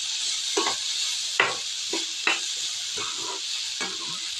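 Grated coconut stirred into a carrot and bean stir-fry in a hot pan, a continuous sizzle broken by several scraping stirs, close and alone.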